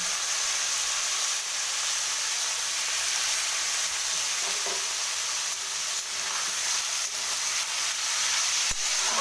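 Garlic, grated ginger and finely chopped chili fry in white oil for Bengali fried rice, producing a continuous close, even sizzle with faint stirring and no talking throughout.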